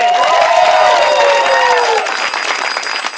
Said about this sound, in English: Everyone, a huge round of applause for Big Nick,